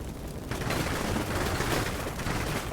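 Video game artillery fire-for-effect strike on a building, a dense rolling burst of explosions and rumbling impacts that starts abruptly after a brief lull and holds loud and sustained.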